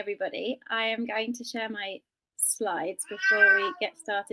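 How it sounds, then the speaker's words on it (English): A cat meows a few times in the background while a person talks steadily over it, with a short pause midway. "I have to apologize for my cat, who you may hear in the background"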